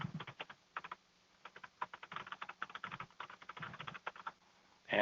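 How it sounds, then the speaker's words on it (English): Computer keyboard typing as a username and email address are entered, with rapid irregular bursts of keystrokes and short pauses, close and moderately quiet with no talking. "You would type in your username, type in the email address"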